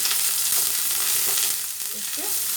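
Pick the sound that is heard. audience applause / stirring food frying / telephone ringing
stirring food frying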